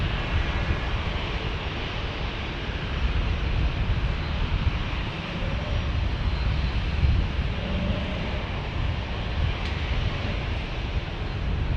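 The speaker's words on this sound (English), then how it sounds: "right now we got a private jet just coasting on in. Looks like a Citation Latitude." A Citation Latitude private jet coasting in to land at San Diego, a steady broadband engine roar with wind-like rush that holds at a fairly even loudness throughout, with no talk.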